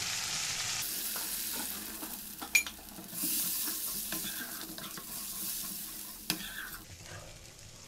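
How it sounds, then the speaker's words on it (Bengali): A spice masala for rohu fish curry sautés in a pan, hissing steadily while a spoon scrapes and stirs, with a couple of sharp knocks against the pan and no voices. "মশলাটা আমার প্রায় কষা হয়ে এসছে"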